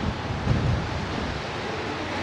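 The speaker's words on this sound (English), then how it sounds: "You see where all those waves are?" Ocean surf rumbles as a broad, continuous wash of noise, heard from shore near an island where wild horses roam, with wind buffeting the microphone and no speech.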